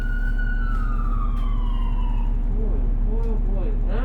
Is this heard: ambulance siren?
yes